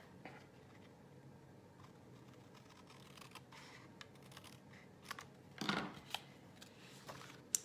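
Scissors trimming patterned paper for a mini album, faint quiet snips and paper handling with a brief louder cut near the end, in a quiet room with no talking.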